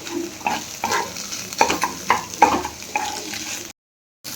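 Eggs are scrambled and broken up with a spatula in an oiled pan, making a quiet sizzle under repeated scraping and stirring strokes that come in short bursts, close by, before the sound cuts off near the end.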